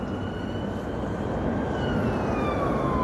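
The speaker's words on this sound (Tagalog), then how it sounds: "may ambulansya pa mga master" An ambulance siren sounds in busy city traffic, its wailing tones sweeping steadily over continuous road noise and holding loud and near throughout.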